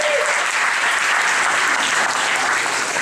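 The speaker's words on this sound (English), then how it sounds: "Can you give her a warm round of applause?" An audience bursts into warm, sustained applause at a live stage event, loud and dense throughout with no gaps.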